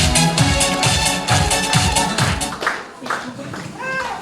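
Wedding guests in a Moscow cafe clap together in a loud, sustained burst of applause, with music and crowd noise mixed in and the clapping easing off partway through.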